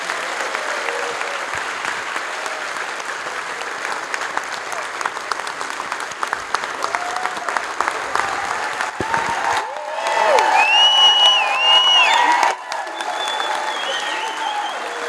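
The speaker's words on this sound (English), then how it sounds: "another round of applause for these panelists" An audience at a Native Hawaiian convention applauds panelists. The clapping is sustained and dense from start to finish and swells briefly near the end, with a few scattered voices mixed in.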